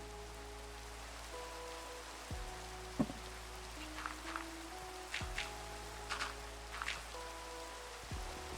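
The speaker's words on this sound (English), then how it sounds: "I like the Minecraft rain sounds." Steady rain patters softly in Minecraft, a continuous hiss of falling drops with faint scattered splashes, quiet and even throughout, joined by a few low background tones.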